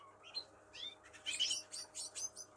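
Chirps from a snowy female canary, a series of short, bright, high calls in several bursts, close and clear over a faint steady hum, with no talking.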